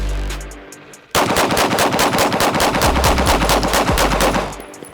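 Rapid automatic gunfire at letter targets on a shooting range, a loud sustained burst of closely spaced shots starting abruptly after a quiet second and running almost four seconds before cutting off.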